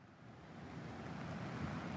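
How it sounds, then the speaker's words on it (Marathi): Floodwater rushing along a road during torrential rain, a steady broadband roar that builds slightly and runs unbroken, loud and close, with no voices. "पाण्याचा फ्लो बघा बघाच तुम्ही कहर आहे कहर"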